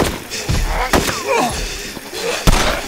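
A door slams in the DayZ survival game, with a couple of sharp, loud thuds standing out over a busy background while voices talk nearby.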